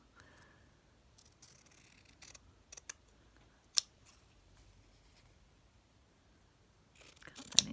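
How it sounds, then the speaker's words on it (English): Fabric scissors snip through a piece of fabric in a few sharp, separate cuts, close and quiet, with pauses between and a quicker cluster of snips at the end. "Get my proper fabric scissors that we never use for paper."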